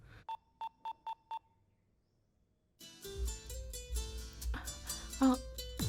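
A phone rings: five quick electronic beeps, a short pause, then a loud melodic ringtone with deep bass starts playing.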